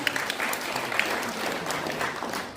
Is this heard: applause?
yes